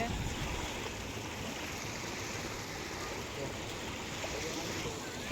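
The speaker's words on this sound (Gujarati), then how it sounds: "જો કેટલું બધું પાણી છે નદીમાં" A river runs high and full, its water flowing in a steady, even rush that fills the whole stretch without pause.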